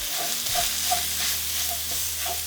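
Ground beef seasoned with garlic salt, cumin, oregano and onion powder sizzles in a pan for picadillo de chile verde, with steady frying hiss and soft repeated scrapes of stirring, close and alone.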